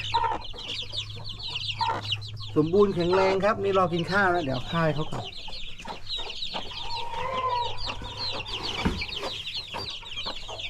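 Hens cluck and murmur continuously nearby on a farm while someone talks over them, with a brief louder cackle in the middle.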